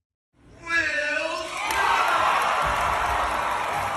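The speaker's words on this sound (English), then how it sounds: "So here is the crowd giving Will Smith a standing O." A large crowd rises in a standing ovation for Will Smith, loud cheering and whooping swelling within half a second into a dense, sustained roar that holds at full strength to the end.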